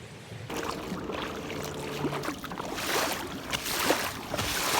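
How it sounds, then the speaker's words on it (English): A fast motorboat passes on the Körös river in Hungary near a kayak, its broad hissing engine and wake noise swelling louder toward the end over a faint background. "It was a really fast boat."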